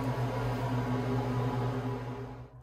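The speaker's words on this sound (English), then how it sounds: "Excuse my fan in the bathroom." A bathroom exhaust fan runs indoors with a steady low hum and an even airy whoosh, close and constant, easing off slightly at the very end.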